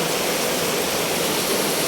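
Heavy rain pours down in a steady, dense hiss that stays constant throughout, with no voices.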